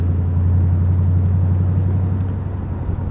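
A 1998 Dax AC Cobra replica's engine drones at a steady low pitch from inside the cabin, a constant throbbing rumble with faint road and wind noise.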